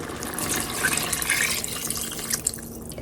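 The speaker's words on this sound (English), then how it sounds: "put a little water in it. We want to pour this water in here" Water poured from a bowl into a pot of Jamaican curry goat, a steady splashing trickle heard up close for about three seconds with no talking.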